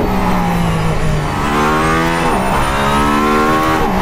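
A Mercedes-AMG ONE hypercar accelerates hard down a straight with DRS open, a loud, close, high-revving engine whose pitch climbs steadily, dips briefly at a gear change, then climbs again.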